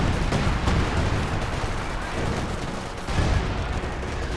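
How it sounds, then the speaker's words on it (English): Artillery barrage in Company of Heroes 2, dense continuous rumbling booms and gunfire washing through the whole stretch, loud and steady with no clear gaps. "they're calling artillery from the bases coming down right here"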